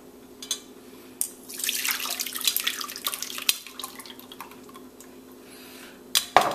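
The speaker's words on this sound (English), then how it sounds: "strain that with my wire strainer into a bowl" Water and pulp strained through a wire strainer into a bowl, a close wet rush of pouring and trickling with clinks of metal against the bowl, followed by quieter dripping and a few sharp knocks at the end.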